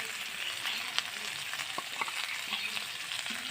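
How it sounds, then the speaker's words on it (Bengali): Chicken pieces, lightly fried, sizzle steadily in a pan with pre-fried potatoes for a chicken masala, giving a close, continuous crackle broken by a few soft stirring knocks. "মাংসটা হালকা ভাজা হয়ে যাওয়ার পর আমরা আগে থেকে ভেজে রাখা আলুটা দিয়ে দেব"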